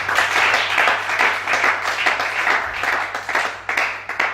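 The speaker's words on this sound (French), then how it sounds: "Acclamons Jésus." A church congregation applauds during a worship service in Libreville, a steady dense patter of many hands clapping throughout, loud and sustained with slight swells.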